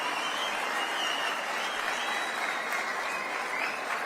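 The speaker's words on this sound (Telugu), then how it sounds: "గట్టిగా ఒకసారి చప్పట్లు కొట్టి, all of you appreciate minister now." Audience at a government event clapping loudly for a minister, dense and steady applause from a large crowd that holds evenly throughout, no talking.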